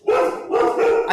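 Several dogs bark excitedly at a passing ice cream truck, a continuous run of loud, close barks and yips overlapping with no pause.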